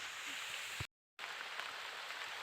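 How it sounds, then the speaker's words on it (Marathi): Heavy rain pours down as a dense, steady hiss, interrupted by a sudden brief moment of total silence before resuming unchanged. "आता घरी जावं लागतंय काय की लय पाऊस आला"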